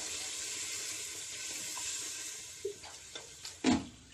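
Water from a large glass poured into daal cooking in a pot, a steady close splashing wash with a few brief clinks and a final louder splash near the end.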